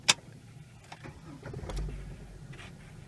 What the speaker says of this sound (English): whenever I started it, the car actually started a lot smoother than it's ever started